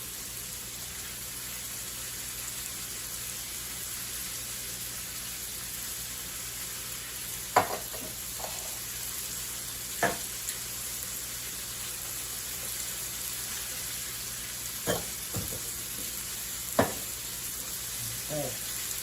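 Chicken pieces frying in flour and oil for chicken fricassee, a continuous soft sizzle with occasional scrapes and taps of a utensil in the pan.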